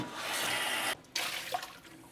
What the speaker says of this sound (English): We're rinsing out the original pot that we used.